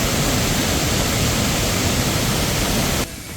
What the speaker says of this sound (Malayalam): അടിപൊളി വെള്ളച്ചാട്ടമാണ് സംഭവം.